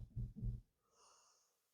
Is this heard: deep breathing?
yes